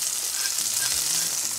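Salmon skin sears in a hot pan with a steady, loud crackling sizzle that runs unbroken and close, with no voices over it.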